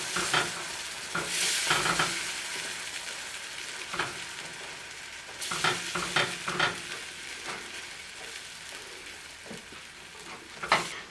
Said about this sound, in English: at this point we want to add our beer. Continue to whisk.